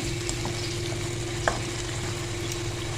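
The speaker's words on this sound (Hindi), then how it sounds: "अच्छे से हमने इसको 1 से 2 मिनट भून लेना है मेथी को भी" Whole spices with fenugreek and cinnamon fry in a pot for Muradabadi biryani, giving a steady, soft, continuous sizzle with a faint stir or clink partway through.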